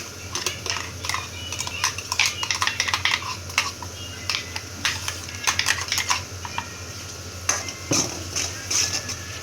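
Ground onion-tomato paste sautés in a pan while a spoon stirs it, producing rapid clicking and scraping bursts in uneven clusters over a steady sizzling hiss, close and fairly loud, with no speech.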